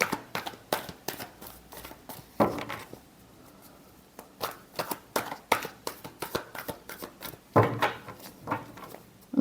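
Tarot cards are shuffled by hand in a series of quick, crisp riffles and slaps, close and fairly quiet, coming in irregular bursts with short pauses between them.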